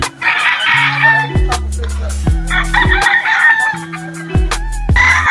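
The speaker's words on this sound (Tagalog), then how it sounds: "napakaraming manok oh" Chickens clucking and crowing close by, with repeated loud calls from several birds over a busy farmyard background.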